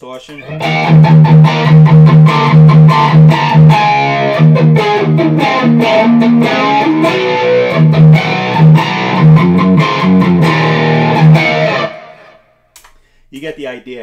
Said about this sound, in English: Some distortion.